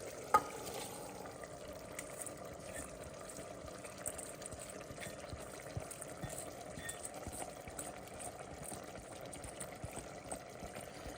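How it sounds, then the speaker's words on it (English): A thick masala mixture for kuska rice bubbles and simmers steadily in a pot, a soft continuous crackle with small pops, quiet and close. "The masala for the Kuska rice is boiling nicely."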